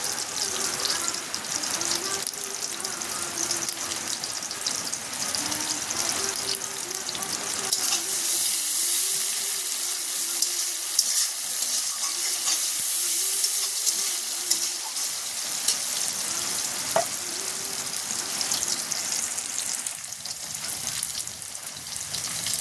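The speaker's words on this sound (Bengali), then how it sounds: "দেখো এখানে আমার পেঁয়াজ কাঁচা লঙ্কাটা ভাজা হয়ে এসছে" Chopped onion and green chilli frying in oil with a steady sizzle, while a spatula scrapes and stirs the pan in a repeating rhythm throughout.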